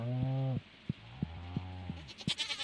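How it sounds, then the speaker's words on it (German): Sheep bleating in the farming game Stardew Valley, a short wavering bleat followed by a second softer one, with light clicks and game effects scattered around, no talk. "ein Schaf, zwei Schafe"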